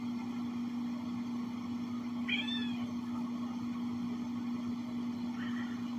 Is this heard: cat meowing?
yes